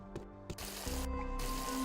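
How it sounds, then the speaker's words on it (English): A toilet flushes in the video game Tales of the Neon Sea: a couple of short clicks, then a steady rushing swell of water that carries on to the end. "I just randomly flushed the toilet."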